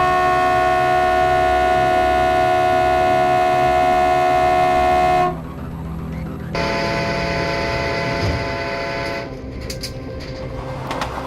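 An Intercity Express train on the Hamburg–Munich line, sounding as a loud sustained tonal horn-like drone that cuts off, followed by rumbling rolling noise and rattling as it passes on the tracks.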